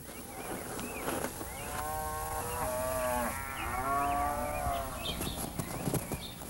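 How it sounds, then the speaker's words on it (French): Cattle lowing in Vrindavan, India: several long, harmonic moos follow one another over about four seconds, mid-distance and fairly loud, with faint clip-clop and rustling of the herd around them. "Chaque jour, les vaches paissent et se promènent paisiblement dans une des 12 forêts de Vrindavan."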